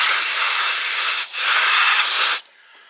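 A can of compressed air blasts a loud, close, steady hiss over greasy Dana 45 axle spider gear parts, briefly dipping once midway before cutting off sharply.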